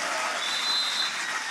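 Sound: audience applause at graduation ceremony

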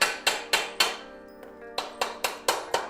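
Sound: hammering aluminum shelf (Aton) parts together

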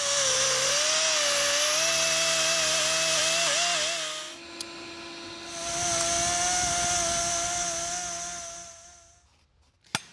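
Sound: grinder smoothing aluminum intake manifold runner with 40 grit cartridge roll

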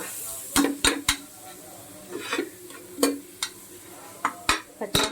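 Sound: carrots being sautéed and stirred in a pan

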